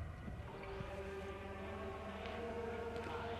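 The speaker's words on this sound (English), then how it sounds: "I hear the sirens now" Sirens in the video game Everybody's Gone to the Rapture: a steady, distant wailing tone drifts over a constant low ambient rumble, faint and unbroken with no voices.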